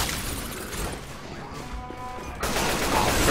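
Gunfire in Left 4 Dead 2 during a realism versus match on the No Mercy campaign, dense bursts of shots and crashing impacts that swell louder toward the end, with chaotic game noise throughout.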